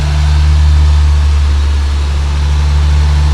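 A car engine idles steadily with a ported intake manifold and throttle body installed, a loud, even low drone with a constant hum holding through the whole stretch, no voices present.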